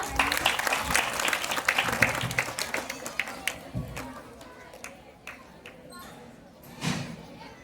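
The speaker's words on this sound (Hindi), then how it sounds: "तो एक बार ज्योति के लिए जोरदार तालियां।" Applause for Jyoti at a Tulsi Pujan gathering of a women's group, brisk close clapping from a small crowd that thins out into scattered claps, with some voices mixed in.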